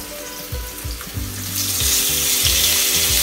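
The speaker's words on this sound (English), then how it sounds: "Add curry leaves and onion now." Curry leaves and onion hit hot oil and fry with a loud, steady sizzle that swells after the first splashy additions, with a few soft stirring clunks underneath.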